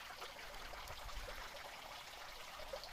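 Spring water trickles over rocks along a creek on rural Missouri acreage, a steady close splashing murmur that runs continuously without voices.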